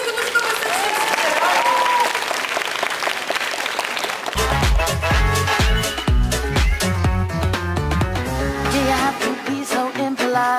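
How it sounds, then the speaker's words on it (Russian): Audience applause at a streetwear fashion show, continuous and fairly loud, with voices over it early on before a heavy beat of runway music starts and plays under the clapping. "Громкие, бурные аплодисменты, ну что вы совсем сидите?"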